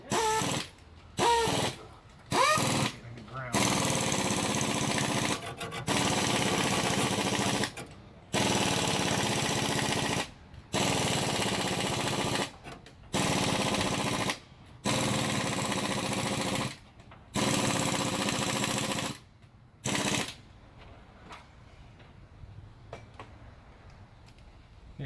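Chevy C-10 engine cranking over without firing, the starter's loud, rapid rhythmic chugging repeated in about a dozen bursts of a second or two each, separated by short pauses, then falling silent.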